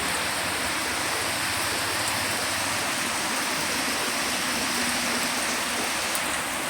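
Rain falls steadily on a home garden with a rose plant, a dense continuous hiss of drops on leaves and ground, close and even with no talking.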